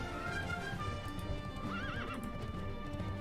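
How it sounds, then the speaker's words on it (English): A horse mount in the World of Warcraft: Wrath of the Lich King Classic game whinnies once, then its hooves clip-clop in a quick steady rhythm at close range, quiet overall with no speech. "Let's bring the horse back."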